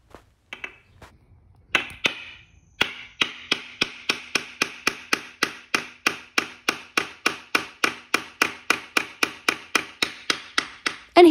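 A hammer driving nails into wooden ladder rungs, a long run of evenly spaced, sharp knocks at a steady rhythm, close and loud, after a few scattered taps.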